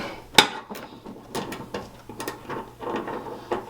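A bolt is tightened while a custom wrapped car bumper is fitted, with a sharp metallic clack followed by scattered ratcheting clicks and light tool knocks at close range.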